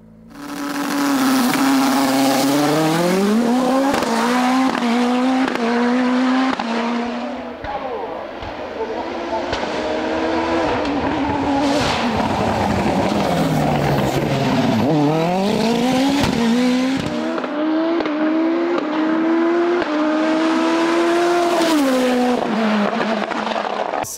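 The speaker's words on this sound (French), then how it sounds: "c Pernot remporte son 4e succès de la saison au volant de sa Nova Proto NP01, en approchant même le record de la montée." A Nova Proto NP01 race car climbing a hill-climb course roars loudly and near, its engine pitch rising and falling through repeated gear changes and throttle lifts over about twenty-four seconds.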